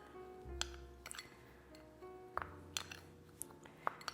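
Almond flour and nutritional yeast stirred together in a bowl, with scattered light clinks of a utensil against the dish over a low background hum.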